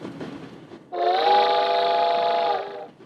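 A moving steam-era train in the Wild West sounds a long, steady whistle blast that cuts in after a low rumble, holds for about two seconds, then fades as the train rolls on.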